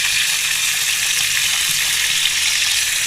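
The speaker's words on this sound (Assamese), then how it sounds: "এই মাছখিনি মই ফ্ৰাই কৰি আছোঁ" Fish sizzling steadily in hot oil in a pan, a loud, continuous crackling hiss with no pauses across the whole stretch.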